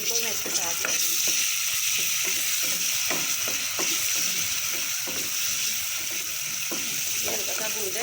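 Ginger garlic paste sizzles in a hot pan while being stirred for chole, a steady bright hiss broken by repeated scraping strokes of the spoon, close and even.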